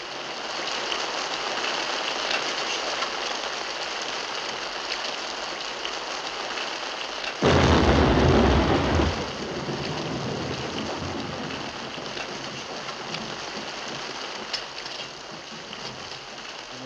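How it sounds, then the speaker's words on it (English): Steady heavy rain falls throughout with no voices, and a loud burst of thunder roars for about two seconds midway before the downpour continues alone. "It's raining outside."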